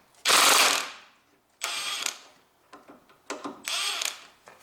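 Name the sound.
impact driver loosening drive shaft bolts on Honda Civic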